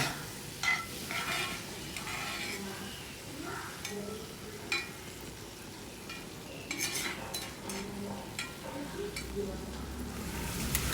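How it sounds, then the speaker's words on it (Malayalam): Rice and masala for prawn biryani are stirred in a pan, with a spoon scraping and clinking in irregular strokes over a steady sizzle, close up, while a voice talks quietly at times. "അപ്പം ഞാനത് ജസ്റ്റ് ഇതുപോലെ തന്നെ മിക്സ് ചെയ്തെടുക്കുന്നേ ഉള്ളൂ കേട്ടോ"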